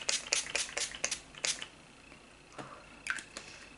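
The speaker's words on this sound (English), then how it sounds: "I just will apply the spray just to kind of give me more moisture" A quick series of short, soft spritzes of facial mist hisses close by, followed by a pause and two more quiet bursts.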